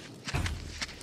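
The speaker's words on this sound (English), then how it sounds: "And I can hear my footsteps." Footsteps in the video game Tauronos, a few crunching steps close by over a steady cold ambient background.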